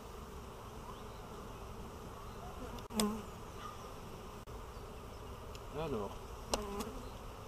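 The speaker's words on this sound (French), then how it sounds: "beaucoup d'abeilles quand même" Honeybees hum steadily at an open hive that may be queenless, with a dense, continuous buzz close to the microphone, a few sharp clicks and knocks, and a brief spoken word.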